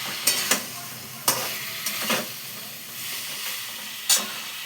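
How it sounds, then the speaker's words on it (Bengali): Jackfruit cooking down with spices in a pan, with scattered sharp stirring scrapes over a soft, steady background sizzle, heard up close with no talking. "দেখো মশলার সাথে আমি এঁচড়টা কষিয়ে দিচ্ছি।"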